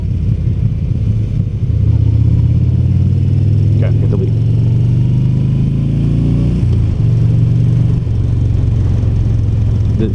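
A heavy 2017 Yamaha V Star Bolt R-Spec cruiser motorcycle engine rumbles and revs up through rising pitch, loud and close, with a short spoken phrase over the engine.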